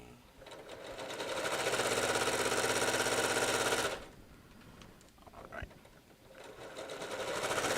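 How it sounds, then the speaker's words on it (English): A sewing machine stitches a quilt in a steady, fast mechanical whir for a few seconds, stops, then starts running again toward the end, with quiet speech in the background. "I wonder, is my sewing machine too loud?"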